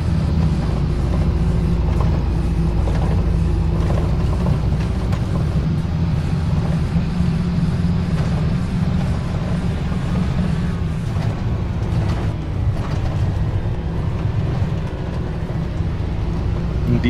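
A large, heavy tractor engine from Farming Simulator 22 drones steadily as it drives up steep slopes, a loud continuous low rumble throughout with a voice talking over it.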